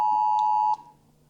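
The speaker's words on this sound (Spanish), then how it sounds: "Está sonando la alarma de mi celular." A mobile phone emergency alert warning of rain in Chile sounds a loud, piercing electronic tone with harmonics. It is held for under a second, then breaks off, and a second tone starts right at the end.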